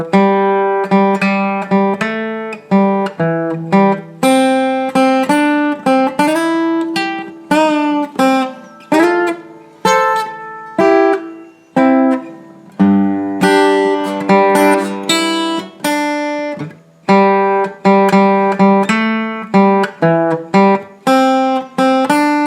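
Guitar plays the first solo of a song in C at a slow tempo: clear, loud picked single notes and short phrases with brief gaps, no voices.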